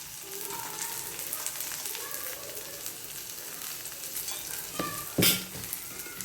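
Okra (bhindi) frying in a pan and being stirred, with a steady close sizzle, scraping stirs throughout and one loud clatter near the end.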